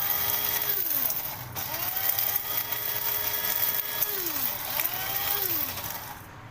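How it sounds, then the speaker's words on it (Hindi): An electric grinder pulverizes dried fenugreek leaves, whole black peppercorns and other spices. It gives a loud, close, high-pitched motor whine with a rattling grind, and its pitch dips and recovers several times as the load shifts. "सब चीज़ों को हमने अच्छे से ग्राइंड कर लेना है"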